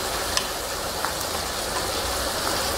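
Tomatoes sizzle in a pan while pav bhaji cooks, a steady hissing fry with scattered faint pops and crackles, close and even throughout, with no voices.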